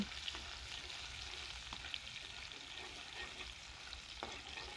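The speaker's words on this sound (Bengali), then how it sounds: "পেঁয়াজটাকেও আমি হালকা একটু ভেজে নিব" Chopped onion frying lightly in a pan after garlic for egg noodles, a faint, steady sizzle with occasional soft stirring scrapes and a couple of small clicks.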